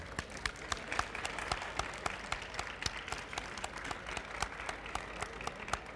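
Audience applause at a book festival poetry event in a forum hall, a steady dense clapping from a moderately distant crowd with a few sharper individual claps standing out throughout.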